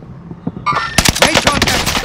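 Automatic gunfire in Warzone on the Pacific map: after a quiet start with faint thumps, a loud burst of rapid shots begins partway through and keeps rattling steadily to the end.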